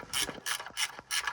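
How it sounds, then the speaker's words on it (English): A ratchet wrench clicking on an exhaust bolt of a KTM 1290 Super Duke RR, four quick close bursts of rapid pawl clicks separated by short pauses, fairly quiet with no talk. "We get the ratchet on it now."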